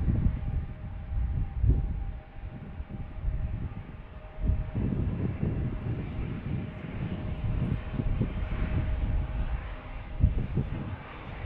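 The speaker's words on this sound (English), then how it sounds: "Oh, United is bringing their MAX 9 from Denver." United Boeing 737 MAX 9 jet airliner at Tucson International Airport, a low, steady engine rumble at a distance with slight swells, heard alone.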